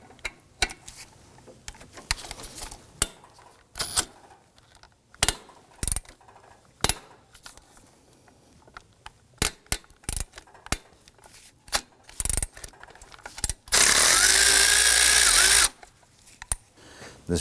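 A ratchet with a shallow 12mm socket loosens a bolt on a 2005-2009 Subaru Legacy 2.5L H4, making a series of sharp close clicks in bursts, then a couple of seconds of steady rapid ratcheting.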